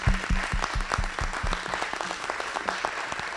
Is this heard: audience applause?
yes